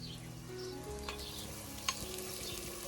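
Onion-garlic masala for chicken curry sizzling and frying steadily in a pan over a strong wood fire, a faint continuous crackle with a couple of light stirring clicks and no talk.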